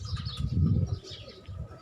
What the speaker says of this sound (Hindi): ये ज़ीरे डाब वाले कबूतर हैं।